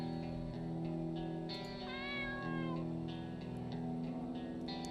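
A cat meows when petted in a video game: one clear, rising-and-falling meow close up over a steady background hum.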